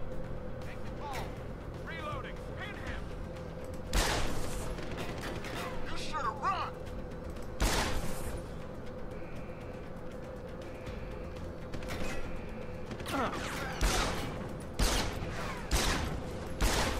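Pistol fired in Deus Ex: Human Revolution, several sharp, loud single shots spaced irregularly over a low humming game background, with a player talking between them.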